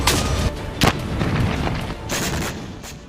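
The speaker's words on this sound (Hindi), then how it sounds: "युद्ध में रूस की आर्टिलरी का एक्शन, हमले में यूक्रेन का MLRS ध्वस्त।" Russian artillery fire hits a Ukrainian MLRS, with deep booming blasts, one heavy thud standing out among rumbling, sustained roars, loud and distant-sounding with no voices.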